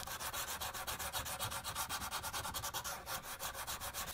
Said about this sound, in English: I was hand sanding the blade